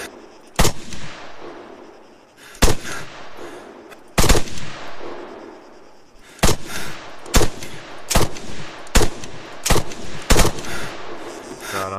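Loud single semi-automatic rifle shots ring out in ArmA 3, spaced irregularly then coming in a quicker run of cracks, each with a short echoing tail over a quiet hum, no voices.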